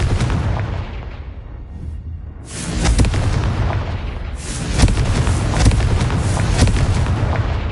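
Confringo fire spells exploding in the Hogwarts Legacy video game, a run of loud, close booms and sharp crackling blasts that hit repeatedly after a brief lull, with no talking over them.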